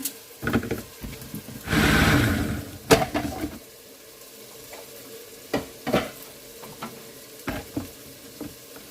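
Vegetables including carrot sizzle in a frying pan with a burst of frying, then scraping and clinking of a utensil stirring at intervals, close by.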